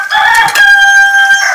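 A rooster crows loudly and close by, one full drawn-out cock-a-doodle call with a rising start and long held tone, no talk over it.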